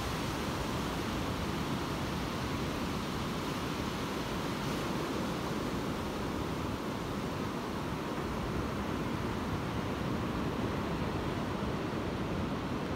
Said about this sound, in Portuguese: E este som das águas